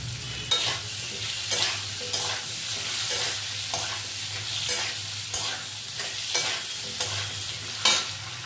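Chopped tomatoes fry in a pan for a Bengali banana-flower mocha ghonto with prawns, a steady sizzle broken by regular scraping stirs roughly every second, close and fairly loud, with no talking.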